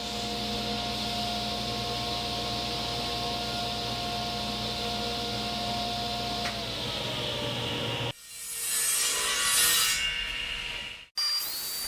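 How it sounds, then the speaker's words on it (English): A power saw cuts 3/16 inch underlayment board into a square, giving a steady loud whining drone that changes to a rougher, harsher cutting tone near the end before stopping abruptly. "all I'm doing here is cutting into a square about 20 inches by 20 inches"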